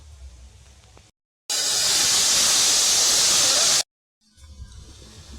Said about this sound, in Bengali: একই কড়াইতে আমি কিন্তু কিছুটা জল দিয়ে দেবো একদমই সামান্য পরিমাণে জল দেবো